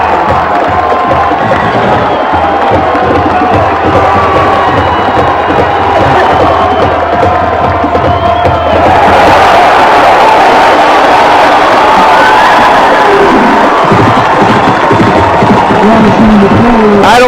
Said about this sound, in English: Let's take a listen to this crowd.